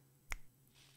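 A single crisp finger-snap-like click from the pixel-art Wild West action game Luckslinger, short and isolated over a low, quiet hum.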